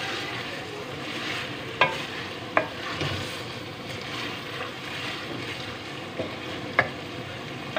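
Mutton mince roasting with onions in a pan, a dense continuous sizzle and frying hiss with occasional sharp taps of a spoon against the vessel, close and steady.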